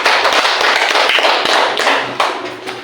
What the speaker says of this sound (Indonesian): tepuk tangan untuk Ibu Sarifah